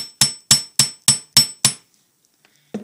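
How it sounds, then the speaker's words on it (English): A hammer strikes straight down on a metal rivet joining a triple strand, six sharp ringing blows in an even rhythm, close and loud, then a faint knock after a pause. "Hammer straight down."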